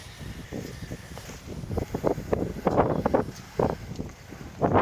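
Wind gusting across an open field in Spain makes a rough, rumbling buffet against the microphone, building in uneven surges and pulses without speech.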